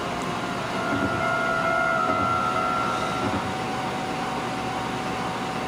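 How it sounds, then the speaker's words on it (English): In the Densha de Go! 2 train video game, a horn sounds as a sustained steady tone for about two seconds over the low rumble of a moving train, then the rolling noise continues alone. "you're supposed to honk the horn before you go to the bridge"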